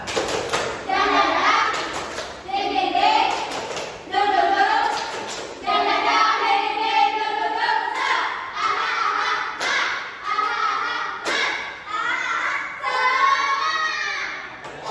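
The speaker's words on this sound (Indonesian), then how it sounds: "Tepuk semangat." A class of schoolchildren chants the 'tepuk semangat' clapping routine together in a classroom. Young voices call out in repeated rhythmic phrases, broken up by short bursts of sharp group claps, and the sound is loud and close throughout.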